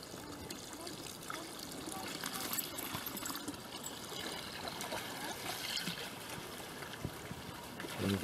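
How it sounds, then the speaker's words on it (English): Water poured into the top basin of a long trough runs and trickles steadily down the channel outdoors, a soft continuous splashing flow at moderate distance, with faint background noise. "the water's being poured into the top basin"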